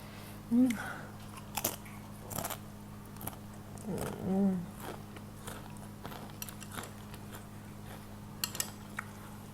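Someone eats spicy Mama instant noodles close up, with soft bites, crunches and chewing spread out over several seconds, along with a few brief murmurs.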